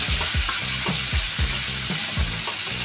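Onions for a Maharashtrian val bean dish sizzle in hot oil with a constant crackling hiss, while a spoon scrapes the pan in regular strokes, close up.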